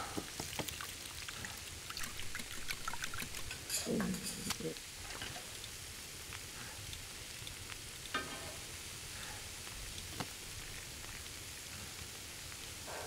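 Bannock pancake of old flour and cooking oil frying in a pan in a video game, a soft, continuous sizzle and crackle running steadily throughout at low volume.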